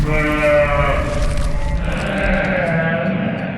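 A person imitates a goat's bleat in a Fallout 76 scene, a loud, drawn-out wavering bah sound repeated twice up close.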